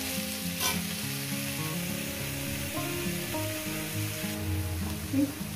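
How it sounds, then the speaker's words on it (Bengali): Spinach frying in a pan over a medium gas flame gives a steady, close sizzle for about five seconds, with a sustained tonal melody running underneath. "ভেজে নেব মিডিয়াম গ্যাসে"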